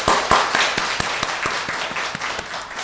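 A Korean church congregation claps together during a New Year's Day sermon, a dense, steady round of applause with sharp individual claps standing out, continuing for a few seconds without speech.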